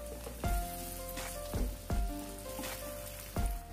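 Bottle gourd muthiya dumplings sizzling in a little oil with sesame seeds and turmeric for a Gujarati breakfast, a steady frying hiss broken by several sharp pops and crackles, close and clear with no talking.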